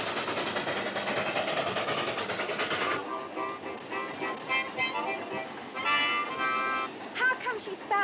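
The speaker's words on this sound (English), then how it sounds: "And he's letting your child drive this locomotive?" A steam locomotive rolls along a rail spur, its chugging and clatter dense at first, then breaking into rhythmic bursts and hissing with short whistle-like tones.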